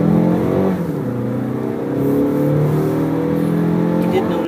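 A 2017 Mazda CX-5 accelerating quickly, heard from inside: a loud engine note climbing in pitch through the gears with steady road noise underneath.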